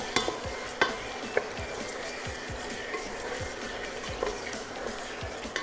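Mutton coated in ginger garlic paste stirred and fried in a pan for a korma, a steady sizzle broken by repeated scraping strokes of a spoon, close and fairly quiet, with no talk.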